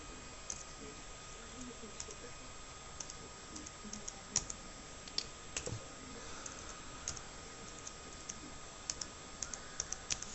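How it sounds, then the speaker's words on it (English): Someone types on a computer keyboard with one hand while setting up Windows Vista, producing scattered, uneven, quiet key clicks with irregular pauses between them. "You know how it is typing with one hand."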